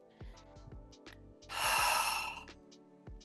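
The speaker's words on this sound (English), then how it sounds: "Breathing in." One long, deep breath is drawn in, a soft airy inhale swelling for about a second amid quieter breaths and small mouth sounds in a calm relaxation practice.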